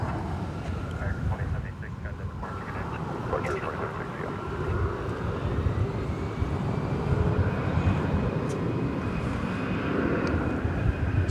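A Spirit Airlines Airbus A320 airliner at Dallas/Fort Worth airport gives a steady, fairly distant engine roar that holds through the whole stretch, softened by wind noise on the microphone.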